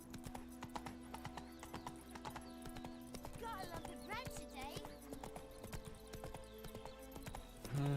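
Horse hooves clip-clop steadily in The Witcher 3 as the mount gallops, with a whinny partway through, layered over game music and someone talking.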